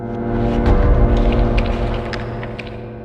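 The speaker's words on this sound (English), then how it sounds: "It's like a whoom, but then you hit a little crumbling in the background." A blocked hazard in the Minecraft Decked Out 2 dungeon produces a loud, deep whooming swell with a faint crumbling and crackling texture beneath it, rising and then easing off over a few seconds.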